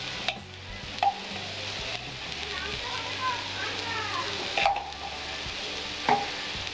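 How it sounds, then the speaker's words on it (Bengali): Ghee sizzles gently in a pan of flattened rice (chira) pulao over low heat, with a steady soft frying hiss broken by a few sharp scrapes of a spoon stirring. "2 চা চামচ ঘি দিয়ে দেবো।"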